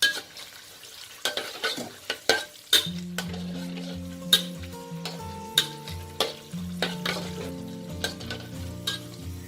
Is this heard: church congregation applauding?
no